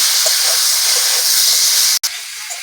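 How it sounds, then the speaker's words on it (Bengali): Onion and tomato fry in hot oil in a pan, a loud, steady hissing sizzle that cuts out abruptly for a moment before resuming more quietly. "পেঁয়াজ টমেটোটা ভালো করে ভেজে নেব"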